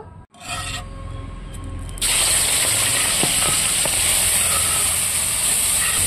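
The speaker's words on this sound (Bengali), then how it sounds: "চিংড়ি মাছ ভাজার জন্য কড়াইয়ে তেল দিয়ে দেব" Prawns dropped into hot oil in a wok: after a couple of seconds of quieter hiss and clatter, a loud, dense, continuous sizzle bursts in close by and holds steady.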